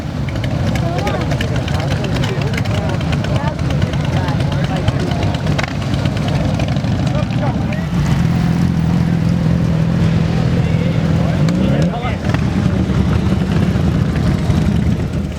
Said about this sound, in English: And then more motorcycles.